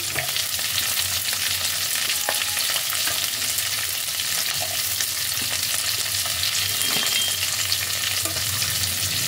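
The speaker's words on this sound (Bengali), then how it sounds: "এবার এর মধ্যে এক এক করে আমি দিয়ে দেব কেটে রাখা পেঁয়াজ, দিয়ে দিচ্ছি সবুজ ক্যাপসিকাম" Chopped onion and green capsicum fry in a pan with a little oil, a loud, even sizzle heard up close with faint stirring clicks and no voices throughout.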